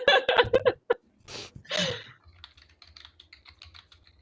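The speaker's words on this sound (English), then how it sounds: "I want to know who the fuck Smog's typing to." Quick bursts of computer keyboard typing open the clip, followed by a short laugh, then softer scattered key taps continue at a lighter rhythm.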